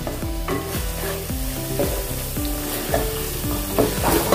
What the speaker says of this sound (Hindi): तेल छूटने तक इसको पकाना है, मसाले को अपने।